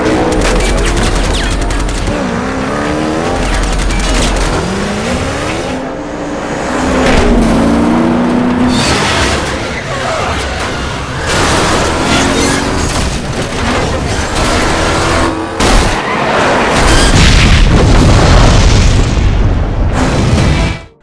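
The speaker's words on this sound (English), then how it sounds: "Frankenstein pushes his opponent's car into the wall of a tunnel until it loses control and explodes" A race car in the Death Race film is shoved into a tunnel wall and explodes, heard as continuous loud engine roar with repeated booms, crashes and gunfire-like bursts over a dense action score.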